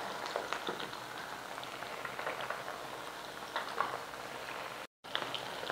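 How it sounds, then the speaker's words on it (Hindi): Fish fingers coated in noodles deep frying in hot oil, a steady close bubbling crackle with scattered pops that stays constant throughout, with no talking. "इसको फ्राई करते हैं।"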